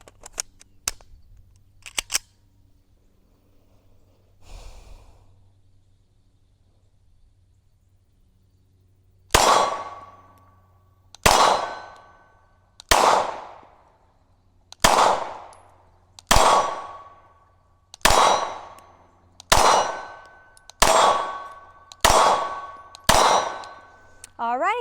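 Rifle shots strike steel targets during a torture test of a Cyelee Bear enclosed-emitter red dot sight. About eleven sharp, ringing clangs come in a steady rhythm, each loud and close. A few faint taps come before them.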